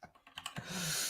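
Quick, light keystrokes clatter on a computer keyboard in a short irregular burst, close but quiet, before a soft rushing hiss takes over.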